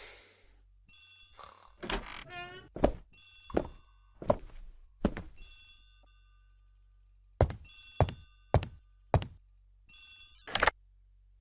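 A telephone in a hallway rings in repeated double bursts with silent gaps between, alongside occasional thuds and footsteps in a quiet room.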